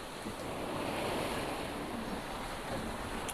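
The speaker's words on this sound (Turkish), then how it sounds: "15 knot rüzgarımız var." Wind of about 15 knots and sea waves rushing past a sailboat under open sails near Menorca, a steady, loud wash of water and wind noise buffeting the microphone.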